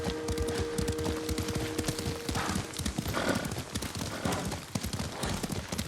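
Horse hooves clip-clop at a gallop in the Ghost of Tsushima video game, a steady rapid rhythm running throughout, with a brief whinny and faint background effects.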